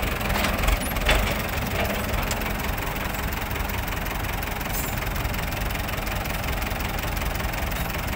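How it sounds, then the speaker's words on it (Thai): A Ford tractor engine runs steadily at close range, a loud continuous rumble with a rough knocking texture and no break. "รถไถฟอร์ดครับ"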